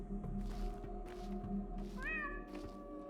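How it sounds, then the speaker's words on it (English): A cat in the video game Pathologic 2 gives a single soft, rising meow, faint over a quiet background hum. "if I hear a cat meow, I have to meow back."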